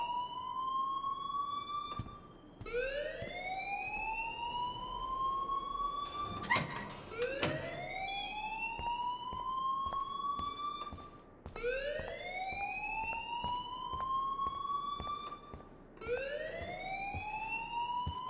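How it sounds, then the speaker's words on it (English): A rising, wailing electronic alarm in the video game Life is Strange, sweeping upward in repeated cycles of roughly four seconds, with a brief clatter between two of the wails and no talking. "please turn off that alarm since that's your job."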